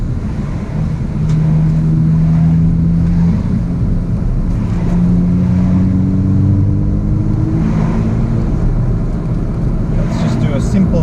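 BMW M2 with a modified exhaust in sport mode gives a loud, sustained engine drone with rising and falling rev tones throughout, heard from inside the car with faint voices over it.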